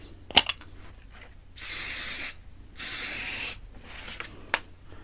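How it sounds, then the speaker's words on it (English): Spray adhesive from an aerosol can applied to the back of a paper sheet for styrene-backed craft armor: two steady hissing bursts of about a second each, close and loud, separated by a short pause, with faint handling clicks around them. "And I'm going to use this spray adhesive. Just put that on the back of this."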